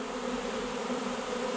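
A honeybee swarm being captured hums in a close, steady buzz with a clear tonal drone, continuous and moderately loud, without any talking.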